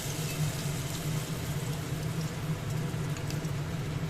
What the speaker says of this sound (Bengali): এবারে গোলার মধ্যে ডুবিয়ে একটা একটা করে তেলে ছেড়ে ভেজে নেব।